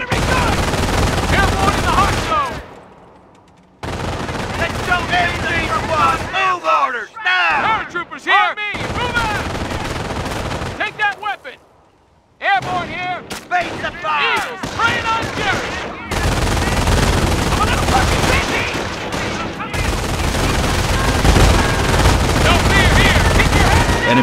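Intense battlefield gunfire in the Company of Heroes strategy game: dense bursts of machine-gun and rifle fire with booming explosions, broken by brief silent gaps, while soldiers' voices shout over the chaos.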